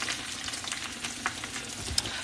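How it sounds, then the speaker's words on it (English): Pork cutlets, thin ones, sizzle and fry in a pan over medium-high heat, a steady close crackle with scattered pops and no talk. "So these are frying up."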